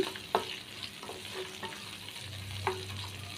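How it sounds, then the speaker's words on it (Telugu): Green and dried chillies frying in hot oil, with a continuous close sizzle and a few light taps and scrapes of a stirring spoon against the pan. "పచ్చిమిరపకాయలు కాసేపు వేగిన తర్వాత ఎండుమిరపకాయలు వేసుకోవాలండి. కొంచెం బాగా వేగనిద్దాం."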